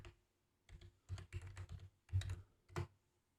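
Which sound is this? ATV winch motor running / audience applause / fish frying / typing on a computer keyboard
typing on a computer keyboard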